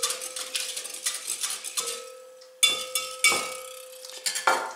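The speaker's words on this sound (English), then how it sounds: "I'm going to whisk this together for just a quick moment." Yeast and granulated sugar whisked together in a bowl, giving a steady run of light metallic clinks and scrapes with a few sharper taps near the end, close up with no talking.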